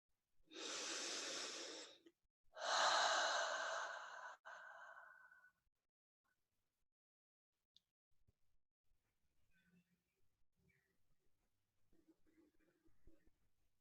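Two long, deep breaths during a guided meditation, a slow airy inhale and a fuller exhale close to the microphone, then near silence with faint small rustles.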